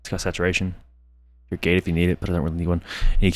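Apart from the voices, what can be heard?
No everyday noise stands out behind the speech.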